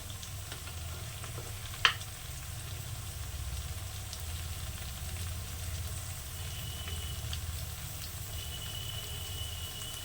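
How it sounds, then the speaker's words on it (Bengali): Spice masala with red chili powder sautés in a pan as a soft, steady sizzle under low background noise, with one sharp utensil clink early on and faint stirring. "আবার মশলাটাকে আমি সুন্দর করে একটু কষে নেবো লাল মিরচি লঙ্কার গুঁড়ো দিয়ে দিলাম"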